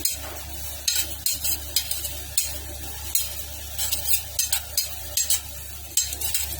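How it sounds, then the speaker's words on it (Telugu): Sesame seeds dry-frying in a pan for a gongura dish, a spoon stirring them in repeated scraping strokes over a steady low hiss, close and alone. "ఇవి కాస్త కలర్ మారేంత వరకు ఫ్రై చేసుకోవాలి."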